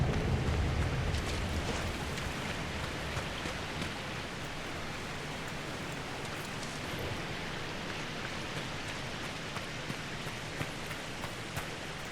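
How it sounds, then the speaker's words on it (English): Steady rushing water of a video game waterfall roars continuously, broad and unchanging, with a slightly louder surge at the start. "Waterfall."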